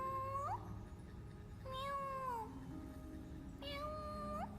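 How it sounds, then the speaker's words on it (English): A cat meows three times inside a video game, each call a clear rising-then-falling wail over a low steady background hum, spaced about two seconds apart. "it sounds like a cat in his cage"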